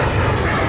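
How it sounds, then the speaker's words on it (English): A Boeing 777 aircraft passing at Manchester Airport, heading south toward London from New York JFK, gives a loud, steady broadband engine roar throughout. "That particular aircraft now is heading south down to London."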